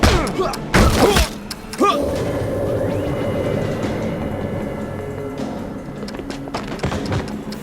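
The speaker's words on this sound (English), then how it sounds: "Yeah, it's going to explode." An explosion in the video game We Happy Few: loud booming crashes and shattering impacts at the start, then a rumbling, crackling tail that slowly fades.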